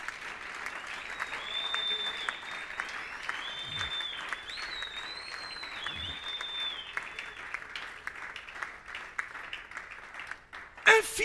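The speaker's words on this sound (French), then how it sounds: "Est-ce qu'on peut d'abord acclamer le roi des rois?" Sustained applause and cheering from a church congregation, dense and continuous throughout, with a brief louder burst near the end.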